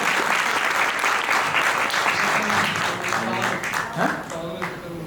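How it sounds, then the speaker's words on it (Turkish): A concert audience gives a dense, sustained round of loud applause, with a voice speaking over the clapping near the end. "vokalistimiz Asen Mesele'ni de kocaman bir alkış almak istiyorum"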